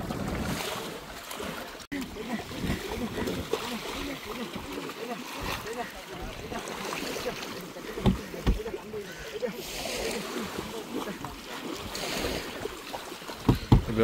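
Small boat out on the sea with waves washing and slapping against the hull, irregular splashes and wind noise, with people talking throughout.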